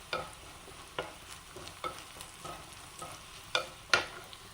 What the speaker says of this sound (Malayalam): ഉള്ളിയും മുളകും മൂത്ത് വന്നിട്ടുണ്ട്